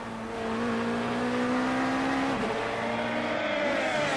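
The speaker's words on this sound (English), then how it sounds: "I think the sounds for the Indy Lights car are a little better than the regular Indy cars" A single-seater Indy Lights open-wheel race car in the Assetto Corsa racing game, its engine holding a steady loud drone with a slight pitch sag near the middle, continuous and without any talk.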